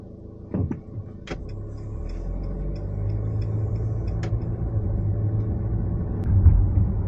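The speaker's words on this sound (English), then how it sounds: "so just going for a little drive in the GLC" A 2018 Mercedes-Benz GLC200 is on the move, giving a steady low engine and road rumble from inside the cabin. A few light clicks and ticks sound early on, and the rumble swells slightly near the end.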